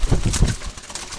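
Pure Jalali wild pigeons coo nearby in a short, loud run of throaty pulses that fades toward the end.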